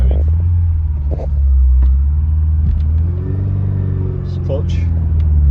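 A Porsche 944 engine running while driving, a loud, steady low rumble with mild rises in pitch, heard under people talking inside the car.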